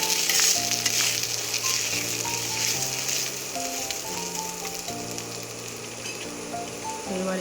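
Banana flower (mocha) fries in a pan as Kashmiri chilli and turmeric powder are stirred in, giving a steady close sizzle with scraping stirs, while music plays over it.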